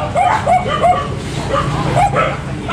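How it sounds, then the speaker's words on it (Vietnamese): Dozens of dogs at a house sheltering around a hundred strays in An Giang bark and yip close by in quick overlapping bursts, with a whimper among them and voices mixed in. "Ô quá nhiều chó luôn."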